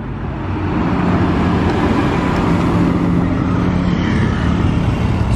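A Lamborghini Aventador SVJ supercar rumbles along a road amid a loud, broadband engine and traffic roar that holds steady throughout, with no clear pass-by peak.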